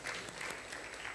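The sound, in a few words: congregation applause in church service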